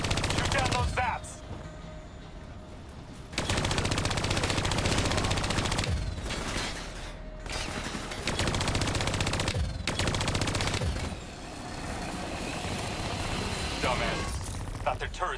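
Gunfire in the Call of Duty: Black Ops III video game, loud sustained automatic bursts broken by short pauses, close and harsh, mixed with game dialogue spoken over the shooting.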